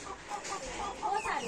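A chicken clucks in short, quick bursts close by in a home garden, moderately loud over a soft background.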